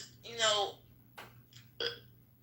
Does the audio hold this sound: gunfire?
no